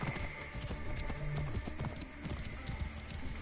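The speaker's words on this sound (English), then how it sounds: "This must be Mered's horse" Horse hooves galloping in Assassin's Creed Origins, a rapid steady clip-clop close by over a dense game soundscape.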